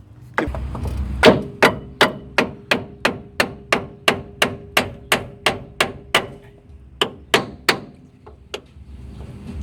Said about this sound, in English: we're going to take our wood and a hammer.